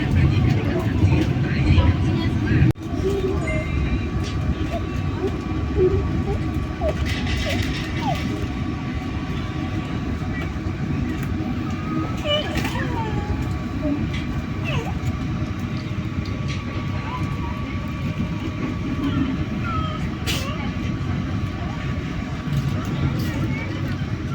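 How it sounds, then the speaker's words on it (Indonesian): Interior of the Matarmaja passenger train, new-generation carriage, running between stations near Jatibarang: a steady low rumble and rolling drone fills the cabin throughout, with one sharp knock near the start and people talking over it. "Setelah ini kereta akan berhenti di stasiun Jati Barang."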